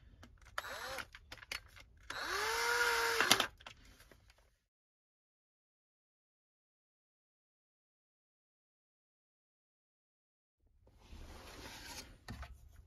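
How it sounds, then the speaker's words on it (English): A cordless drill on a light clutch setting drives screws into a car's rear HVAC controller module in short bursts, one longer run with a rising pitch, then a long silence before more brief mechanical whirring. "I'm going to use a cordless drill on a really light clutch setting to drive the screws in"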